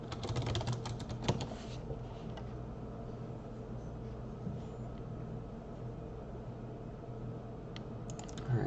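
A password is typed on a computer keyboard: a quick burst of soft key clicks, then a long stretch of steady background hum, and a few more clicks at the very end.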